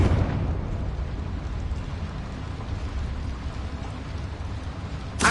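A Confringo fire spell explodes in the Hogwarts Legacy video game inside a small mine, starting with a loud rumbling burst that settles into a sustained crackling, debris-like roar, with a sharp pop at the end.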